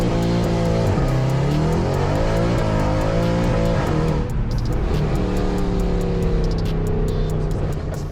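A 2011 Mercedes-AMG C63 Black Series driving hard, its loud engine roaring and revving continuously with rising and falling pitch through gear changes, up close and without talk.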